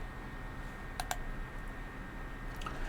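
Two quick mouse clicks close together, then a couple of fainter clicks a moment later, set against a steady low room hum while someone browses an online archive at a computer.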